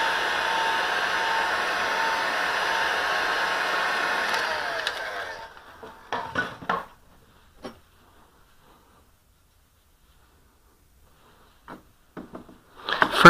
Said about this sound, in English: I have my hot air gun set to about 290 or 300 degrees.